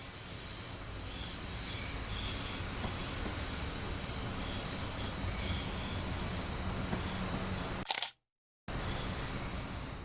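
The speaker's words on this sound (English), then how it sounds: "This particular train is a Class 314 electric multiple unit and consists of a pair of three-car units." A Class 314 electric multiple unit made of two three-car units, running on the Cathcart Circle Line in Train Sim World 3, gives a steady rolling hum with a high electrical whine that cuts out briefly near the end.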